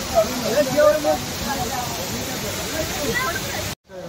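Steady rushing water from a waterfall at Raigad Fort fills the scene with dense hiss, while voices talk and laugh over it nearby.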